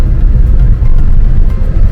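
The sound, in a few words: road traffic noise in Rameshwaram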